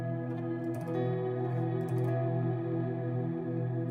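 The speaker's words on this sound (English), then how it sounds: "Now that we have the sound of ambient guitar going" Ambient electric guitar drenched in reverb and chorus, sustained shimmering chords ringing steadily with faint picked notes on top, moderately quiet and with no voices.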